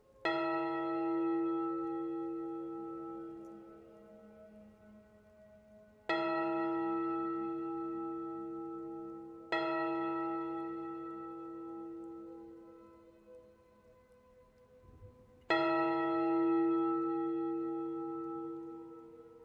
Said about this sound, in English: just as the bells began to toll midnight